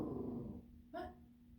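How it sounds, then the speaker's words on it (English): A pet dog lets out a short, low growl indoors, faint and brief, rising once then fading against quiet room tone. "my dog started growling"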